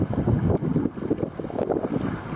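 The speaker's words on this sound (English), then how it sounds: "You can hear the water." Water rushing along the hull of a Flicka 20 sailboat moving at about four knots in a very light breeze, a steady close wash and splash with wind buffeting the microphone, no voices.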